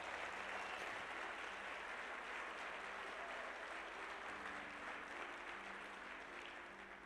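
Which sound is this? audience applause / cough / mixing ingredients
audience applause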